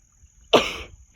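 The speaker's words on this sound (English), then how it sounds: "I'm going to sneeze." A single sharp sneeze bursts out at an off-grid campsite, near and sudden, breaking a quiet outdoor background before fading quickly.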